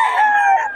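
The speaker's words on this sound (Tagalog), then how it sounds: "Ang manok ni Boss Perry, mga pinagkakaguluhan sa ano" A rooster crows once, loud and close, a single sustained call with a rising then falling tone and no other sounds around it; the bird is brought to a cockfighting betting event.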